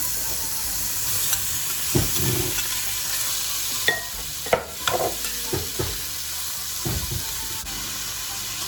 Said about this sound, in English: so my oil is heating up. Kind of got a little smoky because I was talking to Paul, but we're going to add our bacon fat